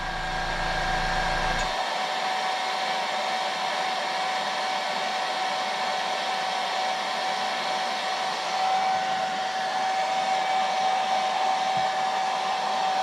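A hair dryer blows steadily to dry airbrushed paint on a jerkbait fishing lure, a loud, constant close-up whoosh with a faint whine running the whole time after a brief lower rumble at the start.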